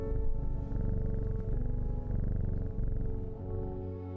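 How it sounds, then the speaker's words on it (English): A cat in the Steam game Strange Horticulture purrs as it is petted, a close, steady rumbling purr with rhythmic pulses that runs for several seconds and fades at the end. "I'm gonna pet the kitty."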